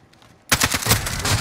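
Rapid automatic gunfire in Modern Warfare, a loud sustained burst breaking in abruptly after a short quiet moment and rattling on at close range.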